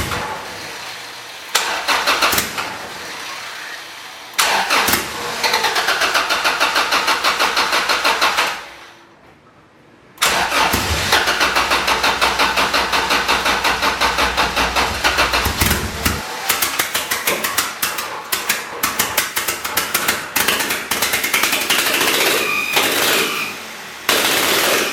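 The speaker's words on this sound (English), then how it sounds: "the Accord started. It was idling and running a little bit." A boosted F23 Honda Accord engine cranks and catches, revs roughly, briefly dies to near silence, then starts again and keeps running with an uneven idle.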